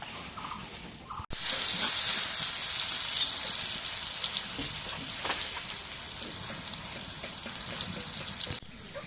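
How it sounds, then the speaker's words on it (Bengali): Onions sizzle and fry in hot oil on a clay stove for Bengali lentil cooking, a loud, steady crackling hiss that starts abruptly after a brief quieter opening and holds until near the end. "এখন পেঁয়াজটা দিয়ে দিই এখন তেল দিয়ে দিই"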